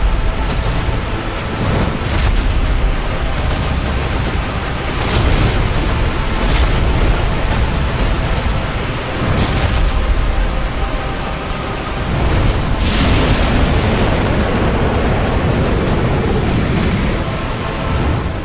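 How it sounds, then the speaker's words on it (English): Kalameet the dragon breathes fire in Dark Souls, a video game: a loud, roaring rush of flame that swells and ebbs in long waves over many seconds, heavy and booming throughout. "I do like Calamite's fire, or flame, or breath, or whatever you want to call that."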